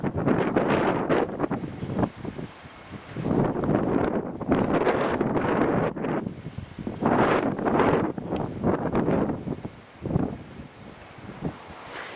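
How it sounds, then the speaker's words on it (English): Strong, blustery wind buffets the microphone in loud, surging gusts on a rocky mountain descent toward scree below a summit, with brief lulls between the heavier blasts. "It's getting quite blustery now, so you've got to be careful."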